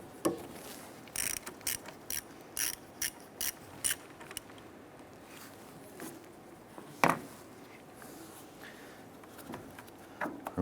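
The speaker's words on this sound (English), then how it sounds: "Use your 10mm socket, extension and ratchet." A ratchet with a 10mm socket and extension loosens the battery ground terminal bolt on a 2015-2020 Cadillac Escalade, giving short spaced clicking bursts and a louder clack near the middle, close and fairly quiet.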